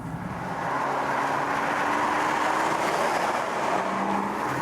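Nissan GT-R driving on a road, its engine a steady loud drone from inside the car that rises slightly and holds, with no talking.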